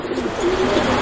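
Pigeons at a Bangladeshi pigeon farm give a close, loud, rolling coo that carries steadily through the brief moment, with no talking.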